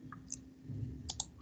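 A few sharp computer mouse clicks sound close and brief over a low room hum, two of them in quick succession near the end.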